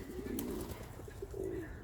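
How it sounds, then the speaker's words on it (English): Pigeons coo at a lakeside, with low, rolling calls repeating at a moderate, close distance over steady background ambience. "gazillion pigeons"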